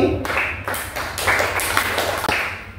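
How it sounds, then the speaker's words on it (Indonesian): Students in a classroom applaud for a classmate, a burst of many hands clapping close by that continues for a couple of seconds before breaking off. "kita berikan tepuk tangan buat Maloni"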